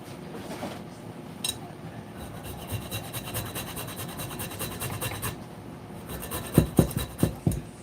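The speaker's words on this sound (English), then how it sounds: "I am grating the nutmeg" Nutmeg is rubbed against a grater in soft, scratchy strokes that stay quiet and close through most of the passage, followed by a few sharper, louder rasps near the end.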